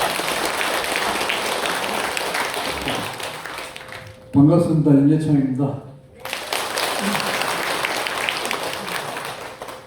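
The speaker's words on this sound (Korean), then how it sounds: "여러분, 이내창 강사님을 큰 박수로 쳐주시기 바랍니다." Broad applause from a seated audience of elderly people at a health lecture, loud and steady, breaking off while someone briefly speaks, then resuming strongly.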